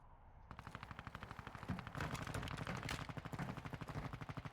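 Rapid automatic gunfire from the video game Call of Duty DMZ rattles in a sustained burst of evenly spaced shots, starting after a brief pause and fairly close.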